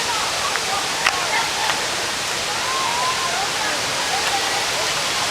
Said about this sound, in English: Can you hear the waterfall?